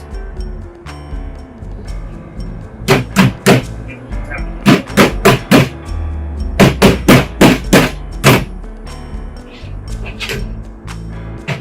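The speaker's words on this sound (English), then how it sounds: "They can just be popped together by hand." Plastic wall planter modules being snapped together by hand, giving a series of sharp loud clicks and knocks in quick clusters, close up over a quiet background.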